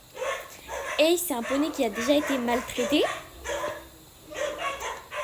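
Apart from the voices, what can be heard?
dogs barking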